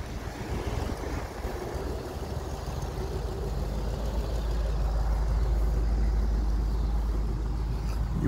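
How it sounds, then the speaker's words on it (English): A 1972 Lincoln Continental Mark IV engine running, a steady low rumble beneath broad wind-like noise that grows slightly heavier partway through, with no talk. "So you can hear the engine running."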